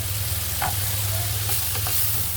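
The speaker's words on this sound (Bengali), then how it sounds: "ঘি গরম হলে সবজি ভেজে নিব।" Winter vegetables such as cauliflower and carrot frying in hot ghee for fried rice: a dense, constant hiss of sizzling, close up, with a few faint stirring clicks.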